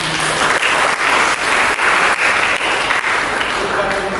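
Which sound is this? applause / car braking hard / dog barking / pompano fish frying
applause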